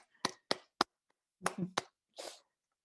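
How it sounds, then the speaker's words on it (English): At the closing session of a climate event, someone gives the event team a short, sparse burst of clapping. About six separate, sharp, close claps come at an uneven pace, with silence between them. "I think we should give a round of applause to the full team that really pulled this event together"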